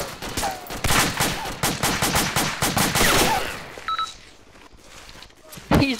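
Heavy gunfire in the military shooter Arma 2 ACE during a city raid, a dense run of loud rapid shots that tapers off into quieter beeps and scattered noises, with a voice heard among them.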